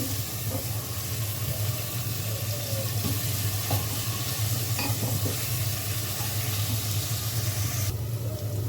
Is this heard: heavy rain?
no